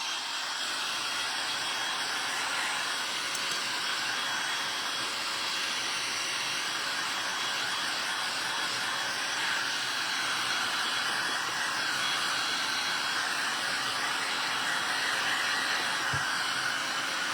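Hair dryer blowing steadily over freshly painted fabric, a loud, continuous close-up whoosh and whine with no pauses and no voices throughout.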